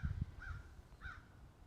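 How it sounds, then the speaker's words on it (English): Two faint crow caws sound in the distance outdoors, spaced about half a second apart over low background rumble and light thumps. "There's a crow."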